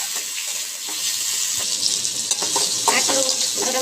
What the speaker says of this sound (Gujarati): તે આપણે તેલમાં સરસ મજાનું મિક્સ કરી નાખવાનું છે